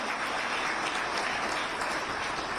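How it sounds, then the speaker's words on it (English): Steady audience applause at a city mayoral candidate forum, a continuous even wash of many hands clapping, fairly distant and moderately quiet, with no talk over it. "How about a round of applause for all the people that did all the work in the background to get us here tonight."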